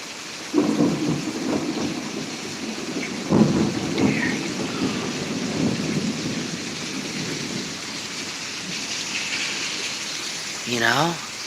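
Rolling thunder rumbles through a rainy thunderstorm in Pittsburg, Kansas, with low booms near the start and again mid-clip over steady rain hiss; a voice speaks briefly at the end.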